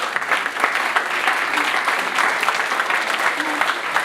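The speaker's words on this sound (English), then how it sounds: "Can we give them one more round of applause?" Audience at a talent show applauds steadily throughout, a dense, even wash of clapping from a full room with no break.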